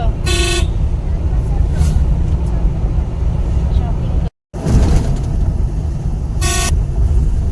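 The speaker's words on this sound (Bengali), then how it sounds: "কি জোরে গাড়িটা" Road traffic roars loudly and steadily as a vehicle speeds along, with short horn toots near the start and again near the end, and speech is likely mixed in.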